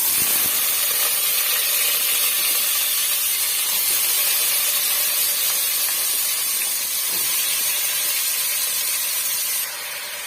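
A steady, loud hiss of chayote (chow chow) pieces sizzling in hot oil already crackling with cloves and cinnamon, holding even for about ten seconds before easing slightly at the end, with no talking.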